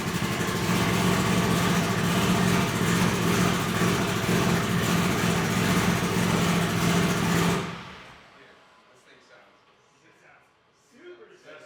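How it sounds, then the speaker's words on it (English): A Ferrari fitted with a Honda engine runs loud and steady at a low, rumbling idle for several seconds, then the sound cuts off abruptly and leaves quiet background with faint noises. "And now we're back to a very low idle"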